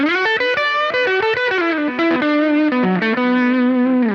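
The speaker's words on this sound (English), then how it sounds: "If I want to do like lead, clean lead sounds" A clean electric guitar through a Boss GT-1 plays a lead melody of sustained single notes with a slightly boosted, full midrange and a touch of effect.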